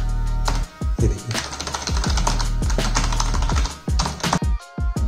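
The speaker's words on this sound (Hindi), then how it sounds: "अब देखिए यहाँ पे गूगल पे मैं आपको टाइप करके दिखाता हूँ।" A USB keyboard connected to an Android phone is typed on, giving crisp key clicks in quick irregular bursts with short pauses over a steady low hum.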